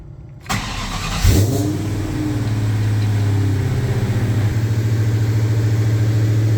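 A 2003 SVT Mustang Cobra engine cranks and fires up, giving a brief rev before settling into a steady, deep, throaty idle from a burbling custom X-pipe exhaust.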